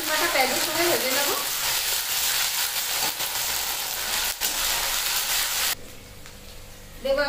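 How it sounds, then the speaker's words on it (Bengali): Ginger garlic paste fries with onions in a pan for a country chicken curry, giving a loud, steady sizzle with some stirring scrapes. The sizzle softens abruptly near the end and then rises again, and a faint voice comes through at the start. "ভালো করে আদা রসুন বাটা পেঁয়াজের সঙ্গে ভেজে নেব।"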